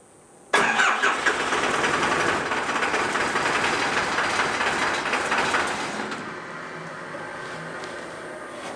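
Cummins 4BT diesel engine in a 1968 Ford Bronco firing up for the first time: a sudden loud catch after a brief pause, then a steady, rough, clattering diesel run close by that settles lower near the end.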